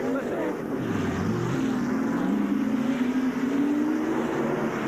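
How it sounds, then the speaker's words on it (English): A NASCAR race car from the 1989 Goodwrench 500 revs in the pits, its engine rising and falling in pitch with a loud, sustained roar close by. "he is in the car revving it, and they're getting ready to send him out"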